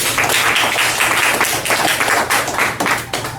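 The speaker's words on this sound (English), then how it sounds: "Clap one more time for our Chairman" Audience at a county Republican Party meeting clapping loudly for the party chairman, a dense burst of applause that tapers off toward the end.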